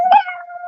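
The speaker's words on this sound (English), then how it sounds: "They're howling like dogs" A single short, loud, close howl rises and then settles into a sustained wavering tone lasting under a second.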